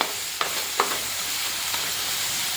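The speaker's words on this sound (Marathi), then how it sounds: "तो कांदा परतवत असताना ह्याच टायमाला जर आपण आलं लसूणची पेस्ट घातली तर आपलं आलं लसूणसुद्धा त्यासोबत व्यवस्थितशीर परतवलं जाईल" Onion sautéing in a pan with ginger-garlic paste gives a steady soft sizzle, broken by a few brief scrapes and stirs of a spatula, with no voices.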